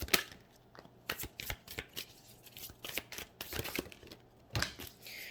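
Moonology oracle cards being shuffled by hand, a run of crisp papery riffles and slaps in irregular bursts, close and fairly quiet, with no talking.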